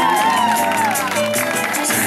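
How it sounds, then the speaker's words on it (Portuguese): Party crowd at a surprise celebration in São Paulo cheering and applauding loudly and continuously, whoops and voices mixed in with the clapping, with music-like tones running underneath. "Uma salva de palmas pra ela."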